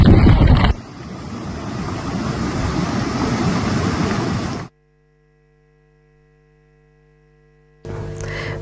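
Loud, steady roar of rushing floodwater after heavy rain in Tikamgarh, Madhya Pradesh, fills the first several seconds, then cuts to near silence before a brief return of noise at the end.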